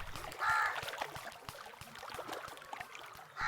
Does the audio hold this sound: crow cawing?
yes